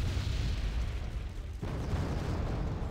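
Mortar fire and explosions in the war strategy game Wargame Red Dragon, a continuous low rumbling barrage of booms with a sharp new blast partway through, no talk.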